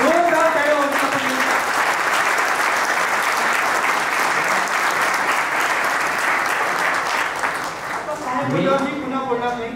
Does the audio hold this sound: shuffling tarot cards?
no